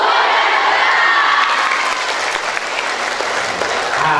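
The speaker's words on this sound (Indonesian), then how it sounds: "tepuk tangan sekeras-kerasnya" Loud, dense applause from a student audience at a campus motivational magic show, with some cheering and shouting mixed in, sustained across the whole stretch.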